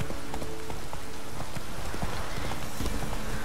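Hooves of the horse Roach in The Witcher 3 clip-clopping at a brisk, steady pace over ground, dense repeated footfalls with a soft rain-like wash behind them, no talking.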